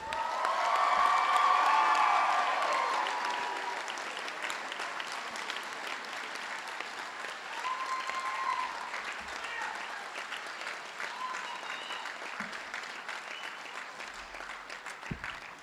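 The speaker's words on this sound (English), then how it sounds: "the audience can applaud just one more time for all of you" Graduation audience at a Reading Hospital School of Health Science ceremony applauding the graduates, a dense wash of clapping that swells loud in the first few seconds and then carries on steadily with scattered cheers.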